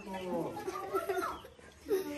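Hens clucking and squawking close by at a home in San Diego de la Unión, Guanajuato, Mexico, mixed with agitated human voices and brief laughter.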